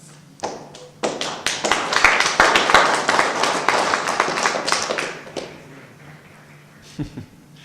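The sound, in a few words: applause at a council meeting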